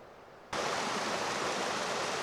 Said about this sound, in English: Same one with these little waterfalls.